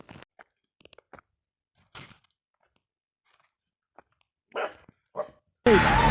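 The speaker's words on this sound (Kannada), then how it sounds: "ನಾಯಿ ಇಲ್ಲೇ ಇದೆ" A dog gives a few short barks, mostly faint and scattered, ending in one loud, close burst.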